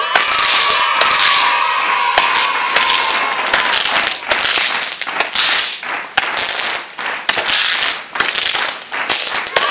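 Backyard fireworks and firecrackers going off in a rapid, dense string of sharp cracks and pops, loud and close, with a hissing crackle running through the barrage.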